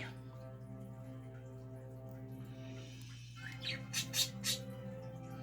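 Several birds squawk in a quick cluster of sharp calls near the end, faint against a steady low indoor hum.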